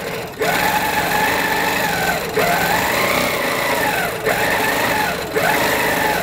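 Sewing machine stitching at a steady 12 stitches per inch, its motor humming continuously and close with slight rising and falling pitch sweeps and brief dips between passes.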